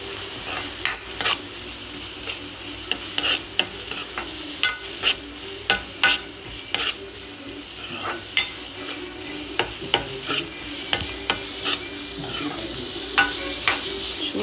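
Ginger garlic paste fries in a pan during egg bhurji cooking, with a low sizzle underneath. A spatula scrapes and knocks against the pan in repeated sharp strokes across the whole stretch.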